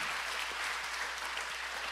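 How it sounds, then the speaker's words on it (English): A church congregation applauds during a Sunday service, a steady, even wash of many hands clapping at moderate distance, fairly soft and without voices. "Can we give them a round of applause and thank them?"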